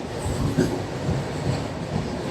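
Rumble of a train running, heard from inside a carriage crossing hilly country in Madhya Pradesh in the early morning; a steady low rolling drone with faint rattles, and no talk.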